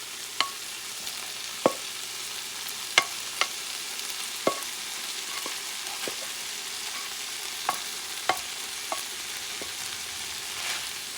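Spanish rice with sardines is stirred in a sizzling pan, a steady close fry hiss broken by about a dozen sharp, irregular taps of the utensil against the pan.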